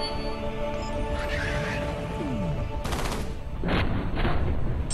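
Gunfire in the first-person shooter F.E.A.R., sharp broadband bursts of shots in quick clusters over a steady game ambience, with a heavier volley near the end.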